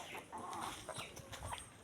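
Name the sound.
chicken clucking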